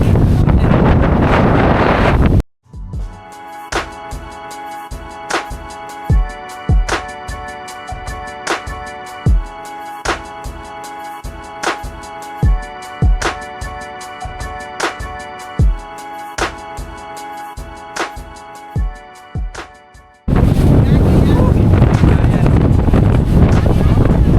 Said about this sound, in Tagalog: Grabe, ang lakas ng hangin dito guys.